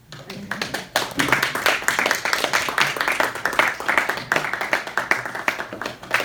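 Applause after a speech at a Toastmasters club meeting, a modest group whose individual claps stand out as sharp, uneven bursts that build quickly and continue steadily.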